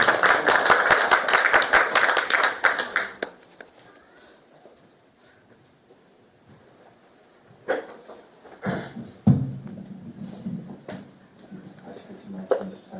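A church congregation claps to welcome a deacon coming up to give his testimony. Dense, loud applause fills the first few seconds, then fades into a quiet room with a cough, small knocks and speech.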